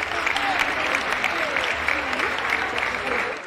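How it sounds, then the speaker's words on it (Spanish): A crowd applauds the champion casetas of the Jerez horse fair, dense steady clapping under faint voices and background chatter that carry through the whole stretch before tapering at the end. "Un aplauso para los campeones de esta feria."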